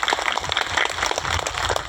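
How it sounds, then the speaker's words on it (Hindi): An audience at a public de-addiction event in a Gujarat village claps together, a steady, dense patter of many hands at moderate loudness with no pause. "तो इसके लिए हम ताली बजाना चाहिए।"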